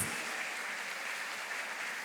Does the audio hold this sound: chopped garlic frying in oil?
no